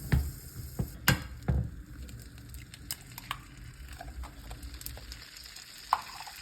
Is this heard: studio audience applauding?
no